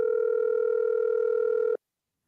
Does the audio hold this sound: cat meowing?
no